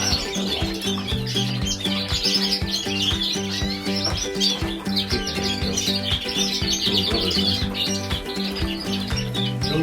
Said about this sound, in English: There's a couple of green buff cocks here, brothers, as Gerald's just mentioned, stunning birds.